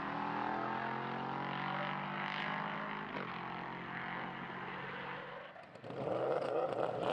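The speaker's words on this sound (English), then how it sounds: "Car fires up and off it goes, making a wonderful noise." A prototype race car in the Mugello pit lane, during a European Sprint Prototype Cup race, runs with a steady, buzzing harmonic engine drone. Near the end the engine revs up harder and the car pulls away.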